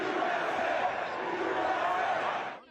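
A stadium crowd at a Pittsburgh Steelers football game cheers in a broad, steady roar that swells slightly and then fades out, with no single voice standing out.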